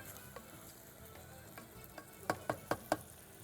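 Rice sautéed in a pan sizzles quietly and steadily, with four distinct scraping stir strokes near the end.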